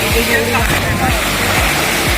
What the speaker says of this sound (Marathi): हा बघा तुमका धबधबा एकदम जवळसून दाखवतो